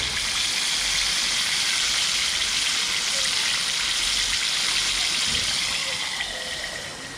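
Oil sizzles and crackles steadily as chicken deep fries at a campsite, a continuous bright hiss at moderate loudness.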